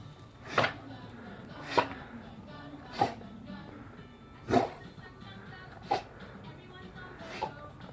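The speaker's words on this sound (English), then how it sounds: "You ever seen a dog sneeze before?" A pitbull sneezes repeatedly indoors, six short sharp snorting bursts spaced about a second apart, close and fairly clear over a quiet background.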